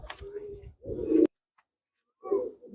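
Pigeons at a pigeon show in Malwa give a few low, soft coos close by, in two short bursts separated by a brief silence.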